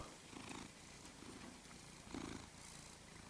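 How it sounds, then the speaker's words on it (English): A soft, close cat purr rumbling in slow repeated cycles, quiet and steady with no other sounds. "Wait for his purr."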